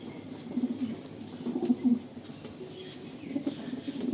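A pair of Andhra pigeons coo close by in soft, low, throaty bursts, with a few rolling calls repeating over a light background hiss.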